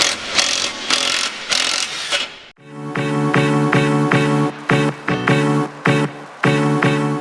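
Bolts on the suspension arms of an Audi A4 B6 are undone with a ratchet: a loud, close run of rapid metallic clicking in repeated bursts, with a brief pause partway through.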